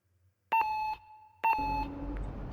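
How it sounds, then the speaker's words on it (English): Two electronic beeps from a pipe-building minigame in the Voices of the Void computer game, each a sustained pure tone lasting about half a second, the second followed by a low hum and faint noise. "I hate the beeping."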